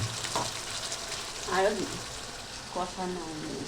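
Chicken kosha sizzling and frying in a pan while being stirred, a steady moderate sizzle with a few clattering stirring scrapes.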